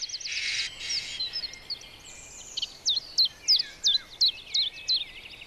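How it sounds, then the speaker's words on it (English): A starling chirping in woodland, starting with a couple of harsh noisy bursts and then a run of about eight sharp, evenly spaced chirps, clear and fairly close with no voices. "the chatty chirping of the starling sounds a little unimaginative."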